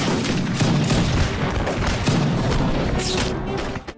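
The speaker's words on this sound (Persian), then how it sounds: "دقایق بعد صدای شلیک تفنگ ها به گوش رسید." A volley of rifle fire from lined-up riflemen, heard as a dense, loud burst of overlapping shots and booms that goes on for several seconds before fading.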